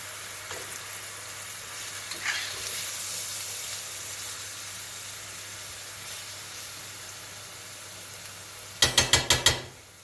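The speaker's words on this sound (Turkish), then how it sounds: "Renkleri solana kadar, suyunu bırana, bırakana kadar azıcık kavuracağım" Meat and black cabbage stuffing sautés in a pan with a soft, steady sizzle, then a quick run of five sharp scraping clicks near the end, close and without talk.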